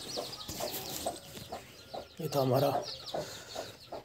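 Free-range desi chickens on a poultry farm cluck in short repeated bursts, close and fairly quiet, with one longer squawk in the middle while someone speaks briefly over them.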